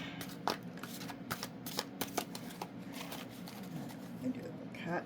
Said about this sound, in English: shuffle here.